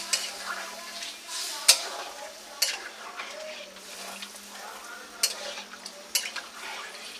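Chalta chutney frying in a pan as water is added and stirred, soft sizzling under repeated sharp scrapes and clinks of a spoon against the pan, close and moderately quiet.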